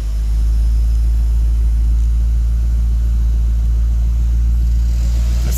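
A 2009 Ford Mustang GT V8 fitted with a cold air intake idles steadily just after starting, giving a loud, even, deep rumble that holds for the whole stretch with no talking.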